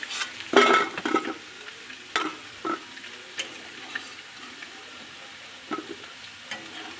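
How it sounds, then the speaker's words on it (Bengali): Potatoes deep-fry in oil in a home kitchen, a soft sizzle underneath scattered clinks and scrapes of a stirring utensil, close by and fairly quiet. "আলুগুলোও বেশ লাল লাল করে ভেজে নিতে হবে"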